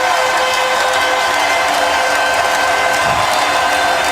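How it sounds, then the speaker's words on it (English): A basketball arena crowd at the 2001 NBA Finals, Lakers versus Sixers, gives a standing ovation, a loud, steady roar of cheering and applause that fills the whole space without a break. "Standing ovation for Iverson."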